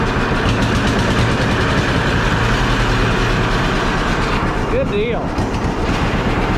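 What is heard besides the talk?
engine running after carburetor adjustment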